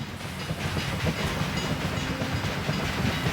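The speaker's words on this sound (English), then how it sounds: "This is a Mexican train." Train running in the video game Railway Empire 2, a steady rumbling rail roll with clicking wheel rhythm and faint hiss, continuous and moderately loud, no talking over it.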